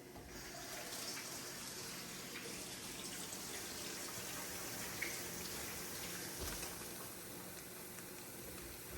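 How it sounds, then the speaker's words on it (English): Tap water runs steadily for a wash of soapy hands at a kitchen sink while fried rice is being made, a continuous close hiss with no talking over it. "I'm gonna wash my hands just for a second. A little bit of soap."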